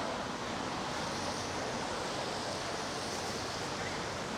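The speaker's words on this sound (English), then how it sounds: "it looks like we've got a heavy shower moving in again" Heavy rain pouring down outdoors on a street in China, a dense, steady hiss of water lasting throughout without a break and without any voices.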